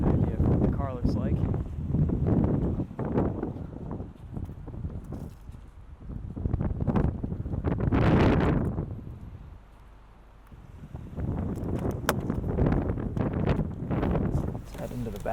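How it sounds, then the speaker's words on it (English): Strong gusty wind outdoors around a 2017 Cadillac CT6, loud rumbling buffeting across the microphone that swells and fades in waves, with someone talking through much of it. "It's super windy out today, so we won't spend too much time out here"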